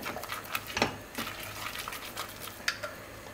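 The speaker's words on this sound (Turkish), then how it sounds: "Unun kokusu çıkana kadar kavuruyorum" Flour being dry-roasted in a pot for soup, heard as a spoon scraping and stirring with occasional sharp clinks against the metal over a soft continuous hiss, close and fairly quiet.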